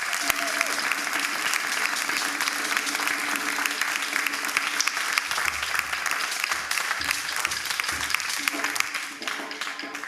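A church congregation applauds and acclaims the choir with sustained, steady clapping that carries on for several seconds, with voices cheering among the crowd before the applause thins toward the end.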